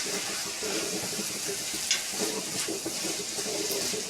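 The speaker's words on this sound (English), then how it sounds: "like a tablespoon of flour on top to thicken the sauce. Stir it." A vegetable sauce thickened with a tablespoon of flour is stirred in a pan, with a steady sizzle under soft scraping strokes and an occasional light clink, close and moderately loud.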